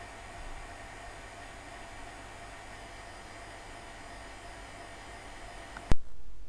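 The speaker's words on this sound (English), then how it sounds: "The vacuum pump can be stopped" A vacuum pump runs steadily in a workshop during neon tube making, giving a faint, even hum and hiss that stops with a sharp click near the end, leaving a quieter hiss behind.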